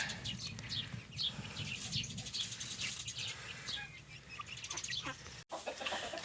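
A flock of large young chickens clucks and chirps continuously at close range while feeding on a farmstead, with occasional wing flaps and no speech.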